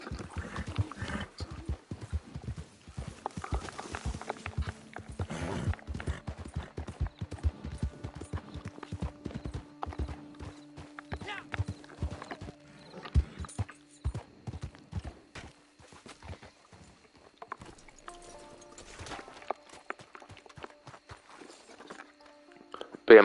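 Mustang horse in Red Dead Online walking with steady clip-clop hoofbeats, close and fairly loud, over a soft game ambience with occasional other noises.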